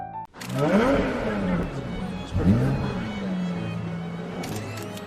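A car engine revs up loudly nearby twice, its pitch rising and falling with each throttle blip, then settles into a steady idle.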